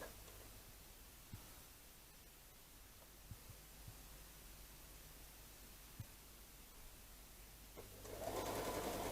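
A sewing machine runs quietly through quilt block seams, a faint even whir with a few small clicks, rising into a louder hiss near the end.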